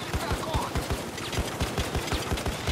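Automatic sentry gun in the video game Payday 2 firing a steady, rapid stream of shots, each burst punching through a dense bed of game noise, with voices talking underneath.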